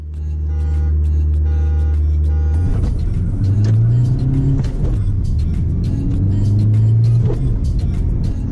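Engines of a Ford Aspire and a Tata Nexon in a drag race, a steady idle hum that jumps into loud revving and accelerating roars with rising gear pulls, close and continuous.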